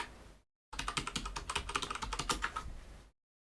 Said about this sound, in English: I'm typing it in